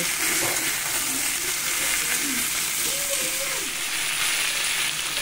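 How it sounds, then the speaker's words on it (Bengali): Bata fish fries with salt and turmeric in a pan, giving a constant loud, close hiss and sizzle that runs through the whole clip. A faint voice-like sound rises briefly beneath it. "লবণ হলুদ দিয়ে খুব ভালো করে কষিয়ে নেব"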